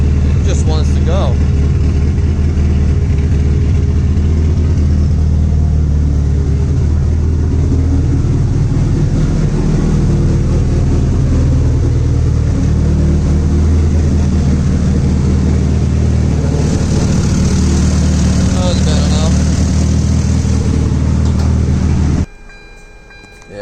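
A turbocharged car's engine drones loud and steady at close range for about twenty seconds under hard acceleration, with road and cabin rumble throughout and a faint voice over it before the sound cuts off abruptly.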